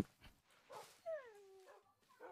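Minecraft dogs whimper after many of them have died, giving a few short yelps and a rising and falling whine with quiet gaps between.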